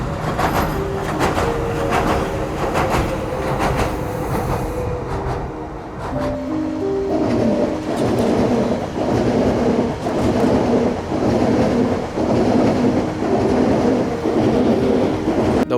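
A DLR light rail train near Pudding Mill Lane in Stratford rumbles past close by for a long stretch, with rhythmic wheel clatter over rail joints and a rising, falling metallic roar, and no talk over it.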